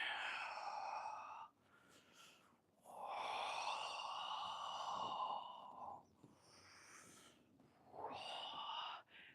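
Slow, deep breaths during a live qigong class, long soft airy exhales and inhales repeating in a calm rhythm, close and quiet with no talking.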